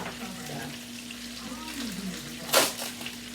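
A ham steak fries in a pan with a soft, steady sizzle, joined by a low hum and a brief loud scrape or clatter near the end. A voice can be faintly heard underneath.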